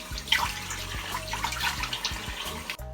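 Medium-warm water runs and splashes steadily at a sink while a face is rinsed after using a silicone facial cleanser, with soft irregular sloshes at close range.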